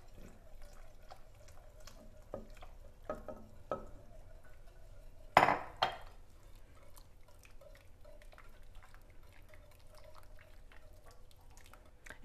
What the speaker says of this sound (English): slowly add your milk and flour mixture into your soup, kind of giving it an easy whisk as you do to incorporate this into your soup